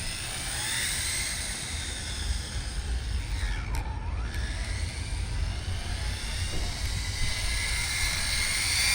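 An Arrma Typhon 6S RC car runs on a 3S battery at half throttle, its motor a high steady whine that rises and dips once as it passes, fairly faint over a broad outdoor hiss.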